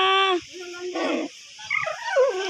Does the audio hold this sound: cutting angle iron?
no